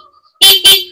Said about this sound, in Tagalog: Napadiin yung ating hazard horn button.